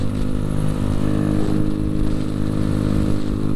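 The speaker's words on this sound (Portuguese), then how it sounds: "gostou da motinha" A small motorbike passes close by with a loud, buzzing engine rattle that stays steady and dense throughout the short stretch.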